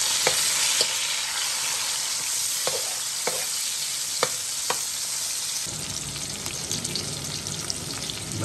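Onion and tomato frying with garlic in a pan, a steady close sizzle with occasional sharp pops and stirring clicks, the hiss growing denser toward the end.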